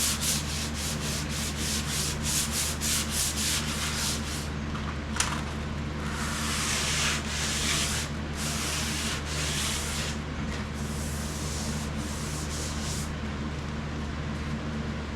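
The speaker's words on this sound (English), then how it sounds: "Just my hand rubbing across the surface." A hand rubs back and forth across a sanded car hood, giving a close, steady scraping swish in repeated strokes with brief pauses, smooth rather than gritty, and no talking.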